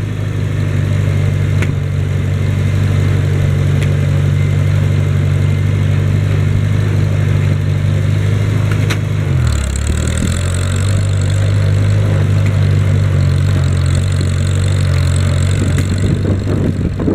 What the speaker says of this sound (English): So, hop on the tractor. Start up said tractor.